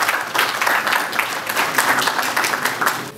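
Audience at a Paris press conference for a Congolese football club applauding a world champion, steady dense clapping throughout, loud and sustained.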